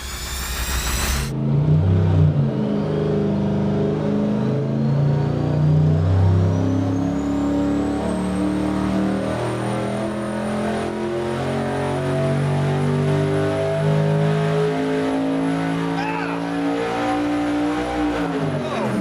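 A stock junkyard short block with opened ring gaps runs on an engine dyno at about 1,500 horsepower, a loud, sustained roar whose pitch rises through the pull, with voices faintly underneath.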